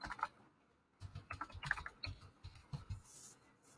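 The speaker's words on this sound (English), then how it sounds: "I'm not very good typing this morning" Someone types on a computer keyboard while filling in a Google Forms quiz, with quiet, uneven bursts of clicking keystrokes close by, pausing briefly before carrying on.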